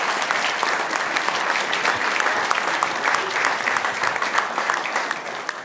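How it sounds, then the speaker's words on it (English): Sustained, loud applause from a large audience at a world conference, dense overlapping clapping throughout with only a slight drop near the close. "I know your hands are getting tired of clapping"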